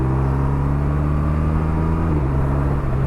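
A BMW R1250 RT touring motorcycle engine runs steadily at close range, a loud, even drone with strong low harmonics that shift slightly in pitch as the revs change.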